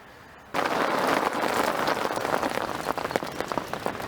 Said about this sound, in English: as you can see the rain's arrived